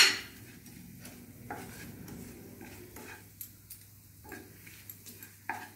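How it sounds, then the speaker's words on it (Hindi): Cumin and other spices roasting over low heat on a tawa produce a quiet, dry crackle, with intermittent scrapes and taps from the stirring utensil spaced across the clip. "देखिए भून लेंगे इसको, आंच धीमी रखेंगे।"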